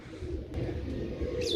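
A rooftop pigeon coos close by in a low, continuous murmur with no voices.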